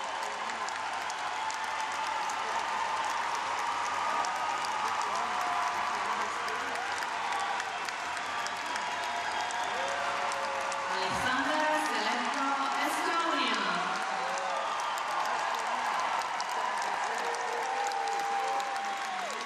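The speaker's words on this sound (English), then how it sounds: "people on their feet applauding what was a monumental performance from Alexander Selevko from Estonia." Arena crowd applauding a men's free skating performance at a European figure skating championship in Kaunas, a broad, steady wash of clapping and cheering filling the hall throughout, with a commentator's voice running over it.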